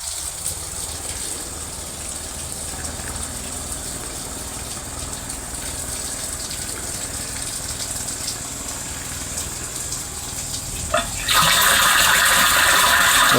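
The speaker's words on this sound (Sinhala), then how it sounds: "ඔබට පේනවා ඇති දැන් මෝටරේ ඔන් වුණා. ඔන් වෙලා වල වතුර පිරෙනවා." A water pump motor runs with a steady whirring drone while water pours into a pit, swelling abruptly into a loud, rushing gush near the end.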